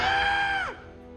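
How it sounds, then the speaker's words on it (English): A loud, high-pitched cartoon scream from a Transformers animated episode, sustained and strong for well over half a second before sliding downward and trailing off. "Did you just scream like a little girl?"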